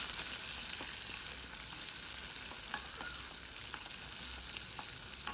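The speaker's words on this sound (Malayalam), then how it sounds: "ആ ഉള്ളി നല്ല ഒന്ന് മുരിഞ്ഞ് സ്മൂത്തായിട്ട് വരണം" Sliced onions fry in a pan for a curry with a steady, close hiss of sizzling oil, broken by faint clicks and scrapes of stirring.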